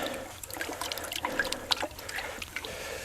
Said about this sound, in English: use the rest of this water to kind of clean some of our utensils up